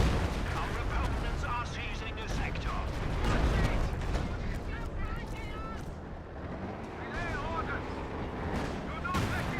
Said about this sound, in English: I hear the 6-pounders in the base